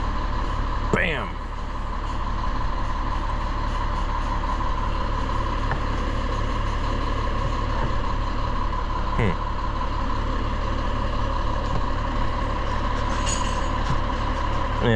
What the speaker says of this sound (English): we got a tow truck behind us, pretty loud